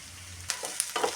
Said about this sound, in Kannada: ನೋಡಿ ಎಷ್ಟು ಚೆನ್ನಾಗಿ ಫ್ರೈ ಆಗಿದೆ ಅಂತ.